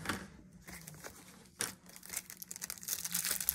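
Magic: The Gathering Secret Lair packaging being opened, with crinkling and tearing plastic wrap that comes in bursts and grows busier and louder toward the end, close up with no talking.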